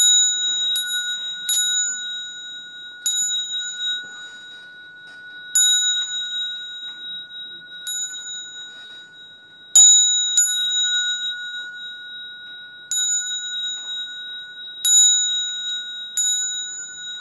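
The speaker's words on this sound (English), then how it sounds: "let's ring the bell three times" A small bell rings clearly again and again with bright, sustained metallic tones, each strike fading before the next, in a quiet room with no talking.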